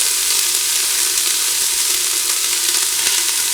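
Shredded carrots sizzle loudly and steadily in a hot pan, a continuous close frying hiss with no talk over it.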